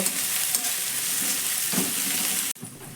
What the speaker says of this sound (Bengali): তো আদা রসুনটাকেও ভালো করে পেঁয়াজের সঙ্গে একটু নাড়াচাড়া করে ভেজে নেব, একটু কাঁচা গন্ধটা চলে যাওয়া পর্যন্ত